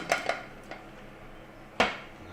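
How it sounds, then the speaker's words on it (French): Pepper mix tipped into an oiled dish for a Provençal-style vegetable flan, heard as a few sharp clinks and taps of dish and utensil, two close together at the start and a louder knock near the end, over a quiet kitchen. "On va commencer à verser les légumes."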